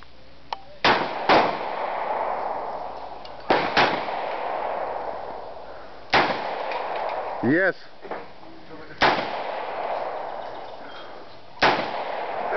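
Several sharp, loud gunshots ring out at irregular intervals, each with a short echoing tail, while people talk between the shots.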